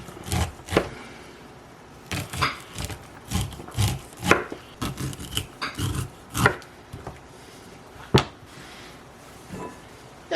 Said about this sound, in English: just run your knife along the corn, along the cob. Just cut off that corn.